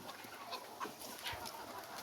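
Free-range desi hens cluck in short, scattered bursts against a steady outdoor background, with no talking.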